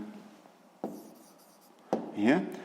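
A pen moves across paper while someone works a sixth-grade maths exercise, giving a few short scratchy strokes with quiet gaps between them and a faint voice in the background.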